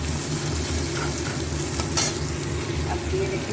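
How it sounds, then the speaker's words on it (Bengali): Onion, ginger, garlic and green chili sizzle steadily in hot oil in a home kitchen for an egg curry, with a few soft stirring scrapes over the constant frying hiss and no talking. "এবার সুন্দর করে ভাজা ভাজা করবো একটু।"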